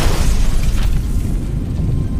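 A booby-trap explosion inside a house in a Sniper Elite film: a loud, deep rumbling boom that fills the whole moment and slowly fades.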